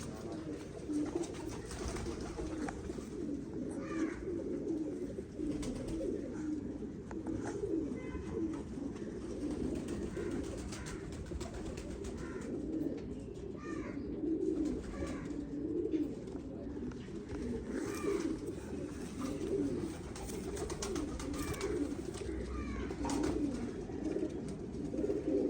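Steady low pigeon cooing repeats throughout, with soft overlapping calls from several birds close by over a constant background hum.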